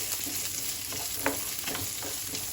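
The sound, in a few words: tomatoes frying in a pan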